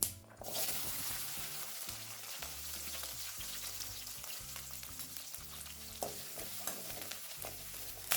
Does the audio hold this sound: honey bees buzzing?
no